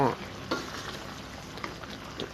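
Papaya in thickening sugar syrup is stirred in a wok, giving a soft steady sizzle with light scraping strokes against the pan, close and fairly quiet.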